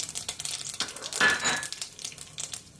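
Mustard seeds and cumin sizzling in hot oil in a pan, a close crackling fizz that swells briefly in the middle, with faint stirring clinks and no talk.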